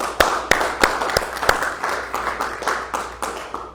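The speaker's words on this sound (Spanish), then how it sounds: "Un aplauso al Señor, hermanos." A church congregation claps and applauds during a Spanish-language sermon on ministry, with a run of sharp, evenly spaced claps over a steady crowd wash at moderate level.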